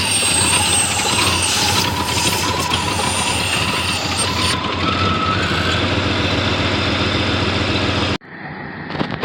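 A loud Pontiac Trans Am engine with a wide-open exhaust leak runs with a rough, raspy exhaust roar and a rising whine, holding steady before cutting off abruptly near the end.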